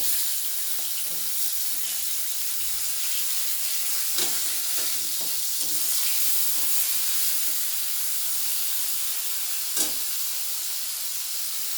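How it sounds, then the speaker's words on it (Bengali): Chopped tomatoes sizzling in hot oil spiced with cumin seed, a broad, steady hiss held throughout, with scattered sharper pops and spoon clinks, one standing out near the end, and no speech. "এবার আমি টমেটো কুচিগুলো দিয়ে দেবো।"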